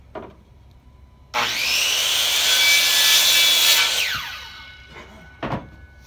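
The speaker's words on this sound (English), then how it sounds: "How you cut the rake end off." The end of a wooden rake handle being sawn off, one loud close cutting pass of about three seconds with a rising and falling rasp, followed by a few light knocks in a quiet space.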